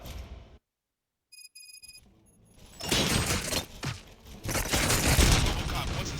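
Gunfire in the video game Robocop: Rogue City: loud, dense bursts of shots and crashing impacts that swell after a quiet gap with a few electronic tones, continuing heavily to the end.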